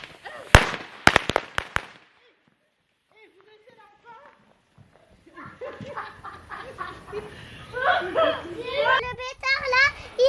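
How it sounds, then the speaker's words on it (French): Several sharp, loud firecracker bangs crack in quick succession outdoors, followed by a pause and then children chattering and laughing excitedly. "Le pétard là, il allait jusqu'au ciel. Oui, il a pété de partout."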